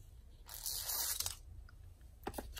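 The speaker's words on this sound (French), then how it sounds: "Voilà, je coupe un petit morceau." A couple of short, crisp snipping and crunching sounds up close as small scissors cut a piece of thin material, separated by a quiet pause.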